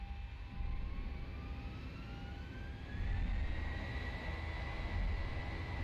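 Twin jet engines of a Boeing 737-800 in X-Plane 11 spool up to takeoff thrust, a steady broadband roar with whining tones that climb gradually in pitch and swell louder partway through, with no talking.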